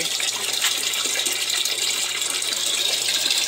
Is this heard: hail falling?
no